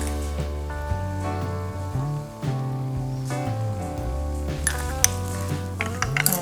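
Seasoned shrimp sizzle steadily in a hot pan while being stirred, a continuous close frying hiss broken by scraping clicks, with faint background music underneath.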